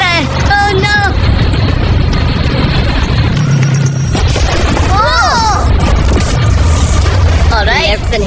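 A loud, continuous booming blast fills the scene as a car is blown up in a minefield during a money challenge, with excited voices shouting over the roar.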